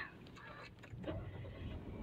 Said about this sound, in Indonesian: Kalau menyalain mobil, tinggal injek rem dan juga tekan start engine ini ya